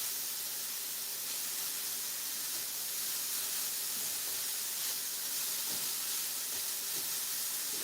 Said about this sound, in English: because these have oil on them, and I got the pan really nice and hot, it's getting a nice